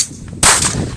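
A single sharp shot from a small .22 rifle, loud and close, cracking abruptly out of quiet and trailing off in a short ringing decay.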